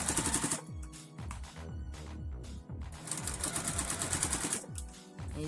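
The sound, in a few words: sewing machine stitching a fabric ruffle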